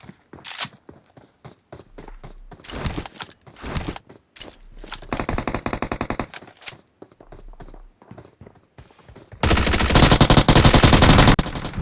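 Bursts of automatic gunfire and single shots ring out in the BGMI battle royale game, separated by gaps and footstep-like taps, ending in a long loud sustained volley.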